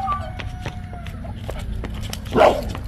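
A dog gives one short, fairly loud bark near the end, rising over steady background noise and a lively, noisy setting around a gate.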